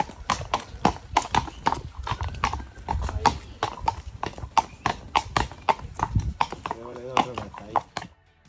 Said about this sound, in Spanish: vi que entraba en pista el frisón